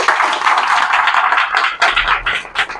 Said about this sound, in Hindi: इसके लिए एक बार ताली हो जानी चाहिए भाई